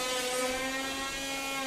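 At a combat robot arena, a spinning weapon whines loud and steady like a jet engine inside the enclosed box, one continuous high-pitched roar with stacked tonal layers.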